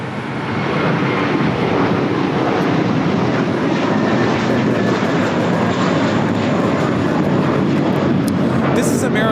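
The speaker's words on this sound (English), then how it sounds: "This is American Airlines 1230 taking off to Dallas-Fort Worth on the A321." American Airlines A321 taking off at LAX for Dallas-Fort Worth, a loud constant jet engine roar filling the whole stretch without a break, with no voices on top.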